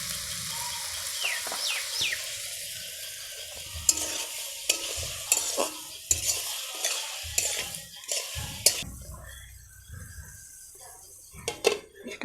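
Onions and tomatoes frying in a pan for paneer butter masala, stirred with a utensil, giving repeated scraping knocks over a soft sizzle, with quiet gaps in between.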